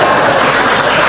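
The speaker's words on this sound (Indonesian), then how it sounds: "Jangan tepuk tangan, makan puji." A church congregation applauding, a dense and steady burst of clapping filling the room throughout the brief moment.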